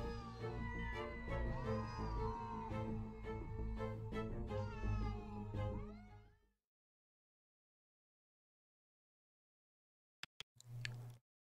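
Cats in the video game A Space for the Unbound meow and caterwaul continuously for about six seconds. The cries are close and layered over one another, followed by silence and then a brief short sound near the end.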